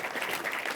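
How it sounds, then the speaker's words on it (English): A brief burst of audience clapping for the speakers at a cybersecurity and sustainability event, a dense, even patter of many hands heard alone. "Keep clapping. I want one more last clap for our wonderful speakers this evening."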